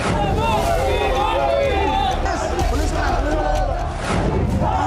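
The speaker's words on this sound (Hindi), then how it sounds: "यहाँ तो इस कदर हालत खराब हुई पड़ी है भीड़ की।" A dense crowd of voters packed outside a polling station during an election, a loud continuous babble of many overlapping voices and shouts, steady throughout with some wind noise.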